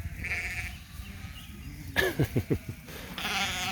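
Two-week-old lambs bleat in a burst of several short, wavering cries close by, with a noisy farm background around them and more distant flock noise before and after.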